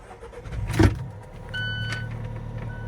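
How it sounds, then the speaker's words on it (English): An Alfa Romeo 4C starting up: a sharp thump of the starter as the engine catches, then a steady low idle rumble with a faint electric whine, close and moderately loud, with no talking. "fire this thing up"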